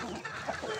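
Rhode Island chickens cluck softly in a brief, close burst of clucking.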